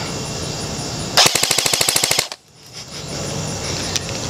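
An HK G36 airsoft rifle fires a rapid burst of about a dozen sharp, evenly spaced shots at roughly 13 rounds per second, loud and close, followed by a brief hush and a single later click.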